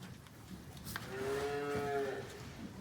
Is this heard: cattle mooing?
yes